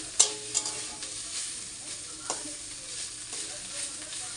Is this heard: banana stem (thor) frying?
yes